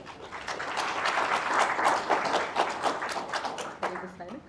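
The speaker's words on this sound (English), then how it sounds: "And a round of applause as he comes." Warm applause from an audience at an Athletics Kenya event as the president walks onto the stage, a broad swell of many claps that builds, holds steady, then thins out near the end as a voice begins.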